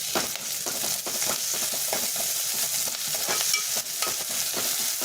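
Ginger garlic paste sizzling and frying in hot oil with browned onions, a continuous crackling fry broken by scraping stirs, close and loud with no talk.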